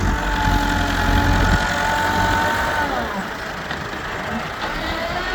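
A tractor engine rumbles steadily nearby as its front blade loads soil into a trolley, the drone dipping slightly in pitch partway through.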